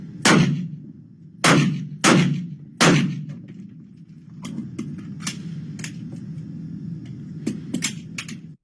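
Gunfire during tactical shooting training from different positions, four loud, sharp reports spaced about a second apart, then a run of fainter, quicker distant shots and clicks over steady background noise.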